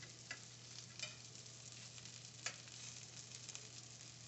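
Home fries sizzle steadily in a pan on a stovetop burner turned up high, a continuous frying hiss with a low hum beneath and a few sharp crackles and stirring scrapes.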